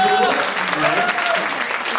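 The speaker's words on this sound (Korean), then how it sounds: "박수 부탁드립니다" Applause from a hall audience at a city council report meeting in Changwon, a brief continuous patter of many hands with a voice speaking through it.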